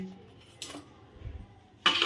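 A steel plate and spoon being handled while serving biryani, with two brief metallic clinks and a soft low thud between them, close by and without talking.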